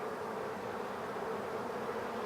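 A honeybee swarm hums steadily as the bees march into a hive box, a continuous soft buzz from many insects with no break and no voices.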